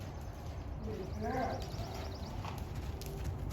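Hooves of a horse being worked in groundwork training thud and clop on soft ground in an uneven rhythm, fairly quiet, while a person talks over them.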